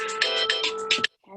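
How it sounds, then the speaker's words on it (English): A phone alarm rings as a short electronic melody of rapid bright pulsed notes, cutting off abruptly after about a second, followed by a brief faint sound. "Sorry, that was my alarm."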